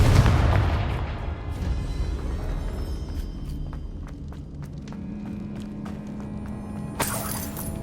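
A Confringo explosion spell cast in the video game Hogwarts Legacy, with a heavy booming blast at the start that fades into a rumbling tail, followed by scattered crackles and a sharp burst near the end.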